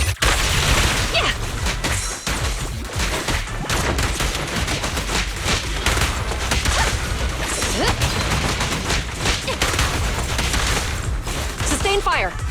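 Sustained gunfire from the video game Zenless Zone Zero, dense bursts of shots and booms rolling continuously at high volume, with game voices shouting over the barrage.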